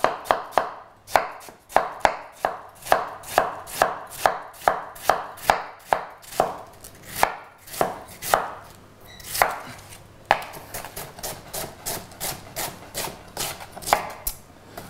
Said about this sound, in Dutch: hoe dik je natuurlijk de rode kool snijdt, heeft de bereidingstijd ook wel een hoop mee van doen